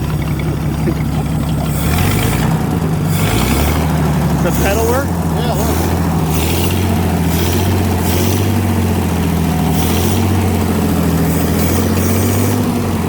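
An old Motowlift forklift's propane-converted flathead Ford engine idles steadily with a low, uneven rumble, while people talk over it nearby.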